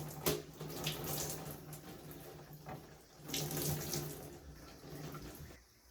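Tap water running steadily while shampoo is rinsed out of hair, a continuous splashing wash with two louder surges, fairly close and alone.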